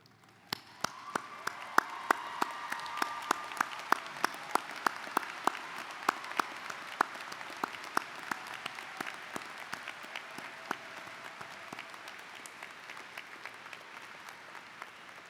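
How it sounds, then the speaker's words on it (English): Sustained applause from a university commencement audience of graduates and faculty, a dense steady wash of many hands clapping that swells in and carries on evenly, fairly distant, with a few sharper individual claps standing out. "Will the graduates and faculty please stand and join me in a round of applause"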